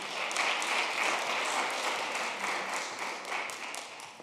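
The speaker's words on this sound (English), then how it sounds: "Let's clap it up for Saigon." Audience at a panel event on incarcerating children and the elderly claps steadily for a few seconds, a dense, even patter of many hands with no voices over it.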